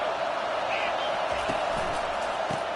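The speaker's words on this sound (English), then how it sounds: "This crowd bringing the energy and noise early." Stadium crowd noise from a college football video game fills the background as a steady, loud roar with a few thumps, continuous throughout the brief stretch.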